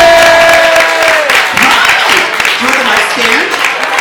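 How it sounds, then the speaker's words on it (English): Applause and cheering greet performer David Vogel at a cabaret show, with whoops and voices rising over a wash of clapping. Music fades out at the start and people talk loudly over the crowd noise. "please give a huge round of applause for David Vogel!"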